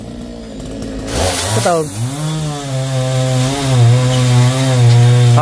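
A chainsaw cuts down coconut trees, its engine revving up from idle into a loud, sustained whine that wavers in pitch as it bites into the trunk. Someone speaks briefly at the start.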